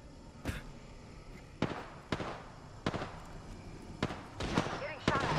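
Gunfire in an Apex Legends ranked match, a string of sharp shots and impacts coming in irregular bursts about every half second to a second, fairly quiet overall.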